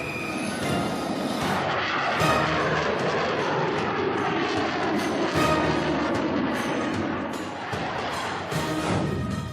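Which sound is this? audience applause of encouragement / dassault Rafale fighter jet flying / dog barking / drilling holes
dassault Rafale fighter jet flying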